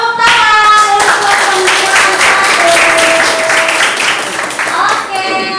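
Steady applause from a classroom audience, dense clapping throughout with a voice and chatter audible over it.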